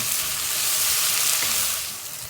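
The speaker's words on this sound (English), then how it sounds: "you're gonna fry the onions nice and brown" Onions fry in a pan for a chicken curry, a dense continuous sizzle with a faint stir-like scrape partway through, close and steady before softening at the end.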